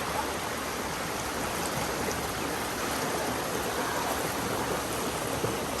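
A clear provincial river streams in a constant, dense rush of water, steady and fairly loud throughout, with no voices standing out.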